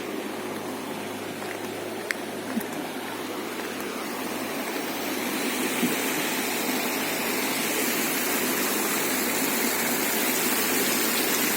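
Water gushes steadily into a sewage treatment tank, a constant rushing flow that grows fuller and louder halfway through, with a low mechanical hum beneath.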